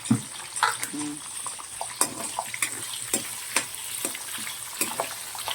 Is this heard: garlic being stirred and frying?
yes